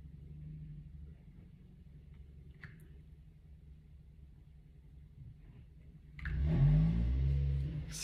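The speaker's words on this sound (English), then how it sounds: "Excuse the sound of the car in the background there" A car pulling up outside a home, a low steady rumble in the background that swells into a louder engine surge near the end, muffled and somewhat distant.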